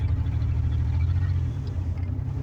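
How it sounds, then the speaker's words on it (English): A car's engine idles with a steady low rumble throughout, running rough and uneven as it sputters from a faulty sensor, with no voices heard. "My car needs a sensor put in it, guys, so it sputters while it's running"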